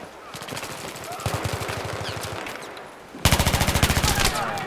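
Rapid bursts of automatic fire from a high-rate engineer rifle in Battlefield 3, two sustained strings of closely spaced loud shots, the second louder and nearer, with someone talking briefly underneath.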